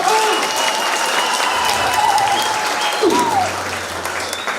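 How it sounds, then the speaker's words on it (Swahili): Audience applause fills the whole stretch as a steady, dense roar of clapping, with a voice and faint tonal sounds carrying above it. "Asante kwa sababu ya makofi yenu mazuri."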